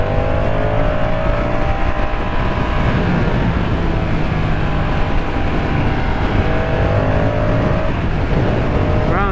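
A 2023 Moto Guzzi V100 Mandello motorcycle engine accelerates hard in second gear on the road, its loud, close drone climbing in pitch through rising revs, steady and continuous over rushing wind.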